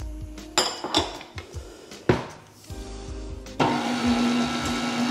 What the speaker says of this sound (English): I'm gonna mix that until it's thoroughly mixed up, smooth looking